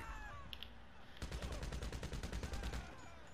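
Rapid automatic gunfire from GTA Online rattles in a sustained burst of closely spaced shots, preceded by a couple of brief pops over game ambience.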